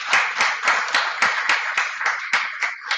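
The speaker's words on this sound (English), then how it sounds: "Let's have a huge round of applause." Audience at a sustainability summit welcoming a guest of honor with clapping, a steady run of about a dozen distinct, rhythmic claps heard close and clear.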